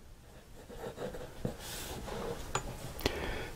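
A smooth fountain pen nib glides lightly over paper close up. A few short, faint strokes are heard with a couple of tiny clicks, and no one talks.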